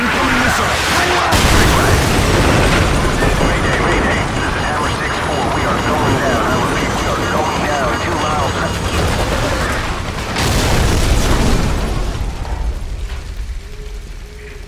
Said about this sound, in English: Incoming missile! Hang on!